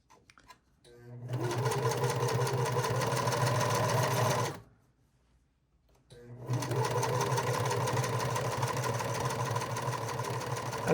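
A sewing machine stitches stretchy knit fabric from yoga pants into a dress, running steadily and close in two long bursts separated by a short silent pause.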